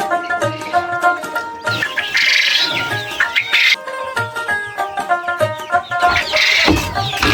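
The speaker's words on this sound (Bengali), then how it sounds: "আজকে কোয়েল পাখি ধরছি।" Small quail birds call and cluck in quick repeated chirps, close and busy, with scuffling and clattering mixed in.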